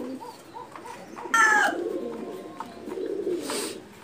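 A pigeon coos softly in low, repeated murmurs, close by, with a brief sharp call breaking in partway through and the cooing continuing after it.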